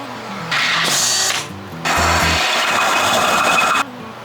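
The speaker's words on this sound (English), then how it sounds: "drill those guys out" A power drill with new Harbor Freight bits bores out bolts on a 1948 GMC pickup truck frame, two loud bursts of whirring, grinding drilling separated by a short pause.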